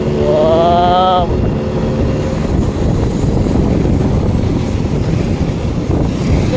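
A Suzuki Run 49cc scooter being ridden, its engine a steady drone buried in heavy rushing wind noise, with a brief rising whistle-like tone at the start.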